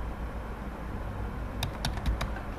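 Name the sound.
typing a password on a computer keyboard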